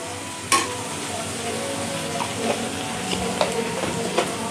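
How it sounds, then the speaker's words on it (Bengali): Red fresh green-chilli paste stirred into hot oil, a quiet steady sizzle broken by a few sharp scrapes and taps of the spoon against the pan. "এটা একটু দিয়ে তেলের মধ্যে নেড়ে নিচ্ছি।"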